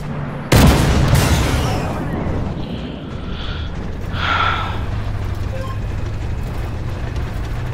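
A tank cannon in a video game fires an APDS round with a single loud, sharp boom that decays into a rumbling tail, followed by faint background game noise and breathy vocal sounds.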